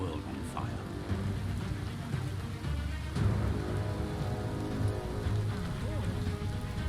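Pouring rain in the video game Biomutant, a steady dense hiss of drops on surfaces running throughout, with faint low rumbles beneath.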